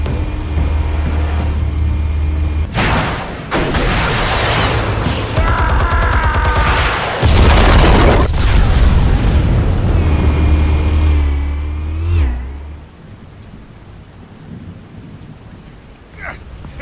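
Explosives detonating in the Batman Telltale video game, a loud close roar of blasts and rumbling debris with crackling and ringing tones, fading into quieter rumble at the end.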